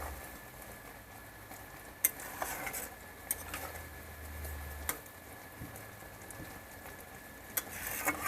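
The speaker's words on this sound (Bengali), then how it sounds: "এটাকে আমি আরও আধা ঘন্টা ধরে ভালো করে এইরকম নাড়াচাড়া করব" Raw mango pickle being stirred in sugar syrup in a pot, faint soft scraping and bubbling with a few sharp spoon clinks against the pan, quiet and close, no talking.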